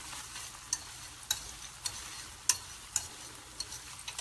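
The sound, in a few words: stirring food in a pan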